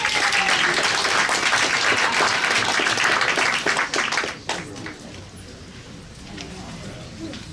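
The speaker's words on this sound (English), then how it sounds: "Let's give her a round of applause." Audience applause fills a community board meeting room, steady clapping from a crowd that holds for about four seconds before tapering off into quieter room noise and a few scattered claps.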